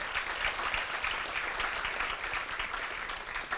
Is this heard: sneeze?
no